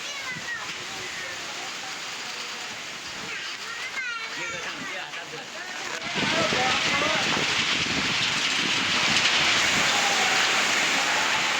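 Heavy, unseasonal stormy rain falls in Yeola in Nashik district, a steady loud broadband hiss that grows noticeably heavier and denser about halfway through.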